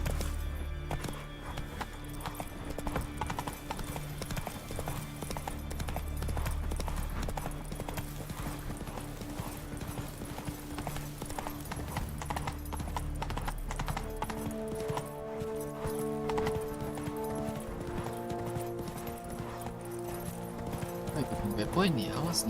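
Roach, the horse in The Witcher 3, trots along in the game on Skellige, with steady clip-clopping hooves under a constant bed of game music and ambience.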